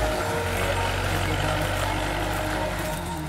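An HMT 6522 tractor engine runs in third gear, a loud, steady low diesel drone with constant rumble and no pauses.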